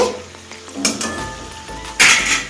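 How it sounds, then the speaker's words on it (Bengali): Whole garlic cloves hit hot oil with melted sugar in a pan, giving a close, steady sizzle, with a couple of louder bursts of frying and a light clink of a utensil. "রসুনটাকে সামান্য একটুখানি ভেজে নেব"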